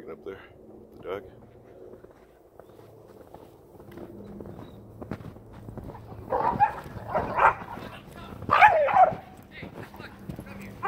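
Dogs, including a Blue Bay Shepherd and a German Shepherd, bark and yip while greeting another dog on a snowy hike. The sharp, excited barks cluster toward the end at moderate distance, mixed with footsteps, and a person talks throughout.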